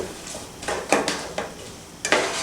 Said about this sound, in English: we're gonna saute these for 3 to 5 minutes